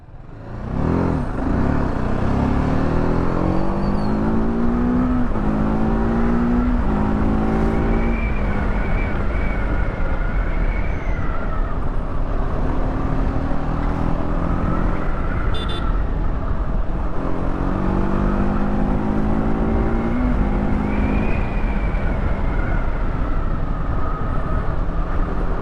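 A TVS Apache RTR 310 motorcycle is ridden on the road, its engine revving up and down through rising gear pulls with a loud, continuous roar and wind noise throughout.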